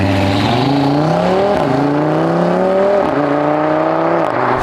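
A sports car engine revs repeatedly, pitch climbing and dropping in loud, close, throaty bursts with no talking.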